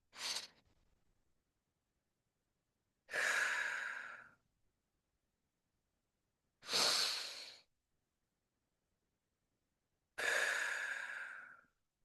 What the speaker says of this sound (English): Take a moment to inhale and exhale.